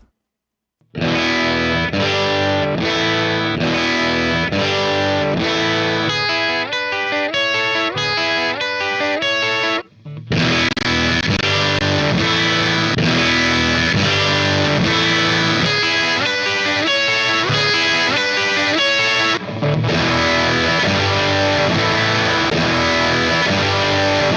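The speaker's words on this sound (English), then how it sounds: "played it back through the amp on EL84 mode, then on 6v6 mode" Looped electric guitar phrase played back through a tube amp, first in EL84 power tube mode, then in 6V6 mode: dense, continuous strummed chords and picked notes with slight drive, broken by two brief pauses where the loop restarts.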